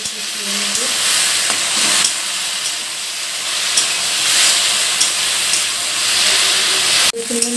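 Bottle gourd stems frying with green chili and ginger paste in a pan, a loud, continuous close sizzle and hiss with occasional stirring scrapes and a brief clatter near the end.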